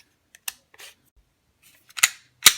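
Glock 19 pistol being cleared, a series of sharp metallic clicks and clacks as the slide is racked, close and distinct with quiet gaps between them.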